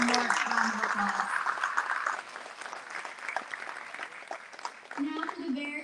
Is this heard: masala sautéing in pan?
no